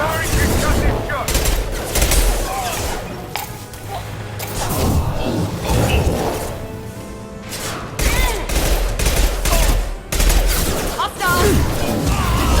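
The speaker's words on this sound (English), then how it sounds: "Firing concussive shot." Concussive shot and dense gunfire in Mass Effect Legendary Edition combat on Insanity difficulty, loud bursts of rapid automatic fire and heavy impacts, with voices calling out over the battle.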